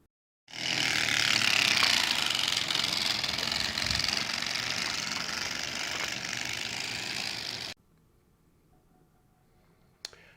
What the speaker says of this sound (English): I had put baseball cards in the spokes, a common practice back then.